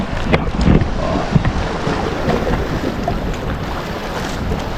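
Wind gusting steadily over the water at a river mouth, a broad blustery rush close to the microphone with brief stronger buffets, no voices.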